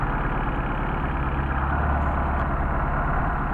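A Mercedes-Benz 190SL engine with Solex carburetors idles while warming up, a steady low rumble with an even pulsing rhythm, close and continuous, with no voices.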